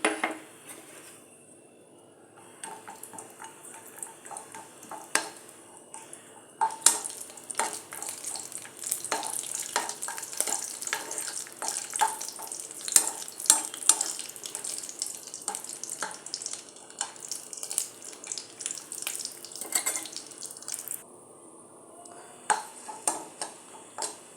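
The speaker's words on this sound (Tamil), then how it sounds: "இப்போ ஒரு கடாயில் சாச்சு கா நெய் ஊற்றிருக்கோம் நெய் காஞ்சிருச்சு அதுக்கப்புறம் முந்திரி கொஞ்சமாக வறுத்து எடுத்துக்கலாம்" Cashews frying in hot ghee in a kadai give a steady, fairly quiet sizzle for the whole stretch, with scattered light stirring scrapes and clinks over it and no talking.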